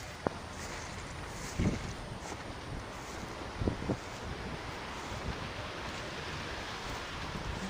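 Steady, heavy wind from Super Typhoon Uwan roars into the microphone with a constant rushing noise, broken by a few brief buffeting thumps.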